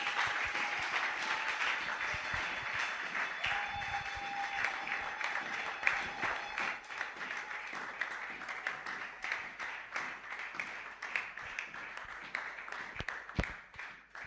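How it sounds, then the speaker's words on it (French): A church congregation applauds and cheers during a Sunday worship service, sustained crowd clapping with scattered shouts, fairly distant and soft, lasting throughout and tapering into uneven claps near the end. "Merci pour les acclamations"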